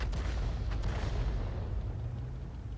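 A deep, rumbling boom from an M53/M55 self-propelled artillery piece firing blind in a tank video game, the heavy low roar filling the start and slowly fading out with no voices.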